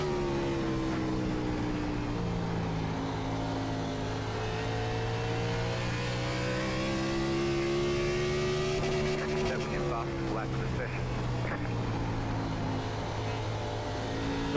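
A race car engine in the iRacing simulator lapping the Nashville Fairgrounds oval holds a steady drone, pitch rising and dipping through the corners, continuous and at moderate level with someone talking over it.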